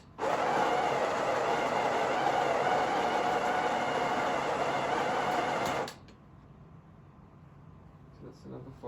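A Breville Barista Touch BES880 grinder grinds 11 grams of coffee beans, a loud, steady, close whirring buzz lasting about six seconds before stopping abruptly, leaving faint background handling noise.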